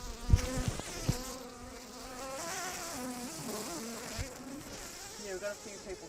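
Honeybees buzzing around an opened hive during a brood inspection, a close, wavering hum that rises and falls in pitch, with a few soft knocks early on.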